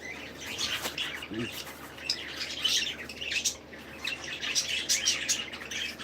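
Pet budgies chirping and twittering in a garden, a lively stream of high, overlapping chirps and squawks at moderate distance, with a brief low sound partway through.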